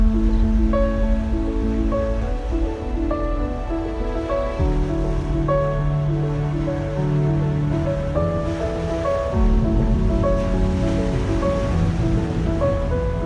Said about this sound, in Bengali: সমুদ্রের আওয়াজ আর বাতাস